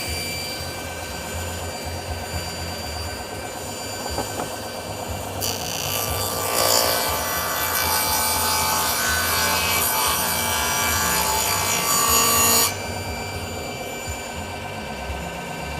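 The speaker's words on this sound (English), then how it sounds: "you will take a fairly slow moving cut on it, and you will get a much finer finish" A table saw runs steadily while making a slow finishing cut through wood, the blade's bite rising into a louder, brighter rasp for several seconds mid-cut before dropping back to the plain running whine.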